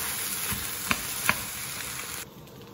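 Rice for Balinese nasi goreng sizzles and fries in a pan with wilted vegetables, with a few sharp scraping knocks from stirring before the sizzle drops slightly quieter near the end; no one speaks.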